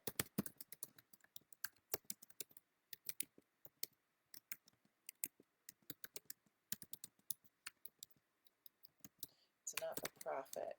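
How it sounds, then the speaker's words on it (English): Typing on a computer keyboard, in quick, irregular bursts of close, crisp key clicks with brief pauses, ending in a denser flurry of keystrokes. "I'm just going to type in check out"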